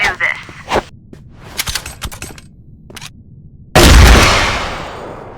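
A sniper rifle in a video game fires one loud, close shot near the end. The blast decays slowly, after lighter clicks and clatter from game handling.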